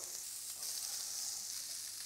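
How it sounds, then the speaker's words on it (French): Shrimp frying in a very hot pan give off a steady, loud, hissing sizzle that continues evenly throughout, with no talk. "Là, la crevette, c'est ultra rapide, sinon ça devient caoutchouteux. Vraiment, poêle bien chaude."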